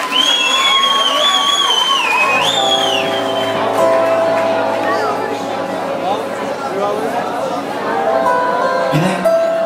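A concert crowd at Jolly Joker İstanbul cheers and applauds loudly for a singer, with a voice ringing out over the noisy audience.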